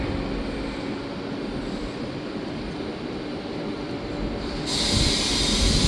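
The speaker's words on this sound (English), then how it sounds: "This looks like an Intercity" A Portuguese Intercity train at Lisbon Oriente station rumbles steadily nearby, its heavy low roar swelling louder toward the end as a bright hiss joins in.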